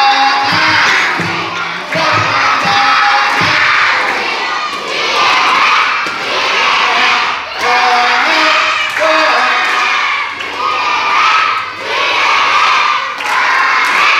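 A group of children shouts a chant together very loudly at a school workshop, in repeated rhythmic bursts of massed voices that fill the whole stretch.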